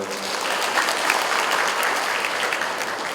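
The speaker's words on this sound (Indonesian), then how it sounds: "bisa berkenan tepuk tangan untuk beliau" An audience at a declaration event in Bandung applauds for an honored guest, loud, dense and steady clapping from a nearby crowd throughout.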